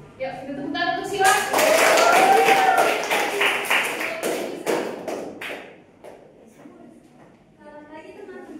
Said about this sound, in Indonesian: kita tepuk tangan untuk Sila